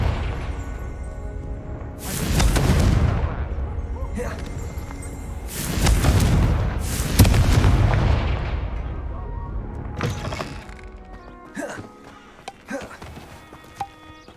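Fiery Confringo spell blasts in the Hogwarts Legacy game, several heavy booming bursts at roughly two, six and seven seconds, each with a rumbling tail, followed by sharper smaller cracks and clattering near the end.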